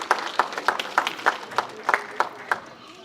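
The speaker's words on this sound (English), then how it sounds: "Yes, let's give Ramsey a round of applause." An audience at a media summit panel claps for a panelist in a brief, fairly sparse round of applause with distinct, evenly spaced claps.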